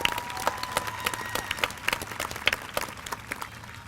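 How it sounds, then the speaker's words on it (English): Steady applause from a graduation-ceremony crowd honoring the school band, a dense wash of many hands clapping at moderate distance, continuous and fairly even throughout. "Give them a nice round of applause"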